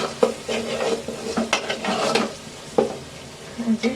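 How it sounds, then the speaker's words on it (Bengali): Onions and potatoes sizzle and fry in a pan while a utensil scrapes and stirs, clinking against the metal in irregular bursts. "পেঁয়াজ এবং আলুগুলো ভাজা ভাজা হয়ে গেছে"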